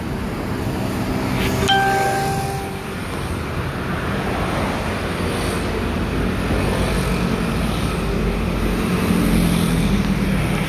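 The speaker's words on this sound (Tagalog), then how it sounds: "Medyo mahangin." Wind rushes past outdoors on a walk toward a 7-Eleven, a steady loud roar with microphone buffeting, faint traffic in the background and a brief tonal chirp early on, without speech.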